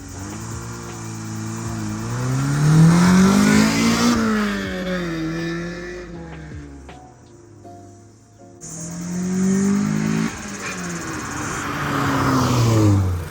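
Honda Civic EF9 engine revving hard on a quick drive, loud and close, rising and falling through the gears with a brief easing off mid-run before climbing again, no talking.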